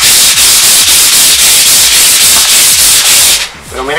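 Sandpaper rubs hard and fast over a surface in a muffler shop, loud close strokes in a quick steady rhythm that stops abruptly near the end, with no talking.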